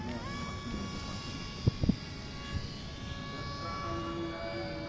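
An RC model F-22 Raptor jet coming in to land, a steady high whining engine tone that holds throughout, with a few brief thumps partway through, heard from a moderate distance outdoors.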